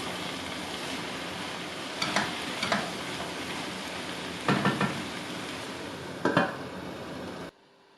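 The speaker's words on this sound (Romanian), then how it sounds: "Mai amestecăm din când în când." Cabbage and pork cooking in a covered pot are stirred, with a few distinct spoon-and-pot clunks over a steady, soft bubbling sizzle; the sound stops abruptly near the end.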